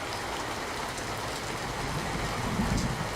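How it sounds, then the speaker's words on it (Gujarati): Heavy downpour during monsoon flooding in Narmada district, Gujarat, a steady dense broadband hiss of rain throughout with a slight swell near the end, no voices. "નર્મદા જિલ્લામાં પણ ધોધમાર વરસાદ તૂટી પડ્યો"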